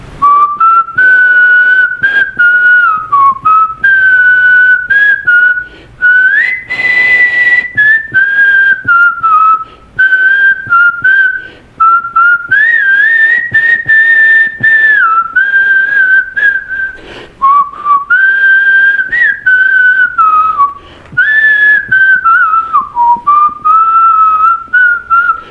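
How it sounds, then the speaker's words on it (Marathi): A person whistles a song melody alone, loud and close, with a clear wavering tune broken into phrases by short breath pauses, sustained for the whole stretch. "मी शिट्टीतून गाणं म्हणून दाखवणार"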